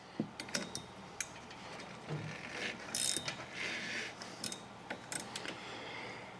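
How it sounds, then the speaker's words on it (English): A box-end wrench works a front shock nut on a second-generation Ford Ranger. Faint, close metallic clicks and ratcheting scrapes come in irregular bursts, with quiet rattles between them. "I'm just going to try and turn this off with a regular old box end wrench"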